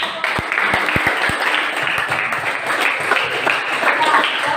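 A classroom of students claps after group presentations: a few sharp claps start it, then steady applause runs throughout at moderate loudness, with faint voices underneath.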